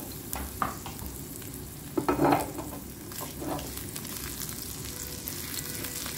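Sliced garlic and cumin frying in a little oil, a steady soft sizzle close by with a few stirring scrapes and clinks, one slightly louder burst partway through, no voices.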